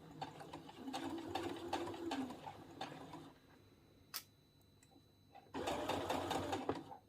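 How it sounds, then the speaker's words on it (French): A sewing machine runs in bursts while stitching a dress seam, fast whirring stitches with a rising pitch, a pause with a sharp click, then a final run of stitching. "Là, je vais venir coudre jusqu'ici, jusqu'au trait que j'ai fait."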